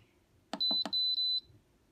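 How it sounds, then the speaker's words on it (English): A Gem 6-quart multicooker gives a few quick button beeps followed by a longer high electronic beep tone, clear and close in a quiet kitchen. "If you hold that down, it will stop beeping at you the whole time."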